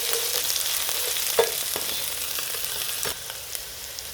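Vegetables and aromatics for pasta sizzle and bubble in a pan, a steady close hiss of frying with scattered small pops and a few utensil taps, no voices.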